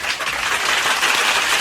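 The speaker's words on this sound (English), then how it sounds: "Let's get a round of applause for me." A brief burst of dense applause, loud and continuous, with no voices over it.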